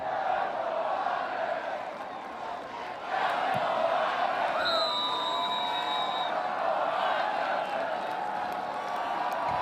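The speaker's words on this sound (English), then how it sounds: "the folks in green and gold, a few thousand of them that made the trip down from Fargo, letting their voices be heard" A few thousand North Dakota State fans in green and gold roar steadily in a record-setting crowd at Dykhouse Stadium during a college football night game. The cheering is a distant wash that swells after a few seconds, with a faint whistle-like tone above it.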